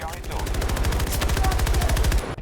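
A PKP-BP machine gun in Battlefield 2042 firing one long, unbroken automatic burst of rapid, evenly spaced loud shots.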